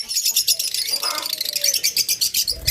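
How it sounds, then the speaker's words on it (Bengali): Two opaline cage birds offered for sale keep up loud, rapid, pulsing high chirps and chatter at close range, with a faint tone in the middle and no talking. "চমৎকার এক জোড়া অপালাইন পাখি"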